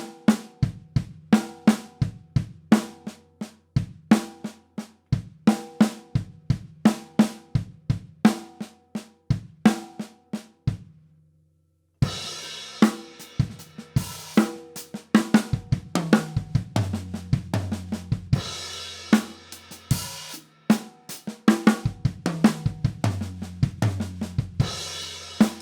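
Drum kit playing a stick control pattern of right hand, left hand, then two kicks, repeated in a steady rhythm, pausing briefly before resuming with fuller cymbal wash; close, clear and without talk.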